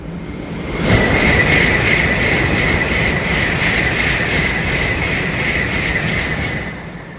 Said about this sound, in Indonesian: Disusul kereta Nozomi kenceng banget teman-teman.